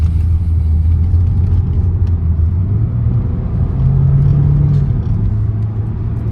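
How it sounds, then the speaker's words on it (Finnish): A 2-litre BMW diesel car accelerates onto a motorway, its engine a loud, steady low rumble heard from inside the cabin, with the pitch shifting slightly as it gathers speed and no one talking. "auto kiihtyy niin kuin kuuluu"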